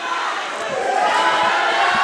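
A home basketball crowd at a high school Group IV final in Atlantic City keeps up a dense, sustained cheering roar with shouts rising above it.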